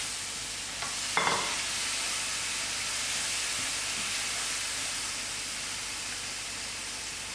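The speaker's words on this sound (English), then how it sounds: "then I add in my grated tomatoes" Grated tomatoes tipped into a pan of cooked-out masala for spicy chicken livers, giving a brief burst at the moment they land, then settling into a steady, close, even hiss of sizzling with no talking.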